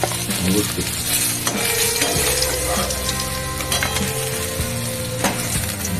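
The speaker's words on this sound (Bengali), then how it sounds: "আজকে স্পেশাল চালগুড়ি দিয়ে রুই মাছ ভাজা" Rohu fish pieces coated in rice flour frying in hot oil, a loud, steady sizzle close up with stirring and occasional clinks of a spatula against the pan.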